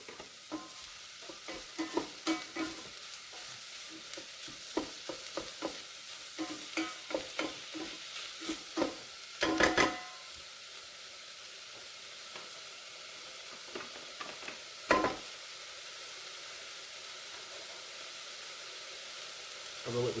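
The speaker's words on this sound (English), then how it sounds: "I'm going to let this saute down just a little bit, get a little bit of fond right down at the bottom of the pan" Pancetta and onions sauté in an Instant Pot Mini, a quiet, steady sizzle broken by frequent light stirring scrapes and a few louder clanks of the utensil against the pot.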